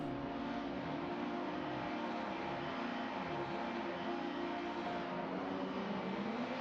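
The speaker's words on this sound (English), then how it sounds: "engines are revving" Race car engines rev together on the grid at a BTCC round at Road Atlanta, a steady, dense, distant drone of many motors with the pitch rising and dipping, no voices over it.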